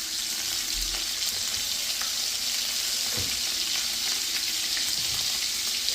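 Garlic and a single anchovy fry in oil in a pan over lowered heat, giving a steady, even sizzle and crackle close up, continuous and unbroken with no talking.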